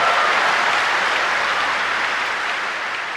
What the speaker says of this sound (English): To have this room of people cheer like that for an airport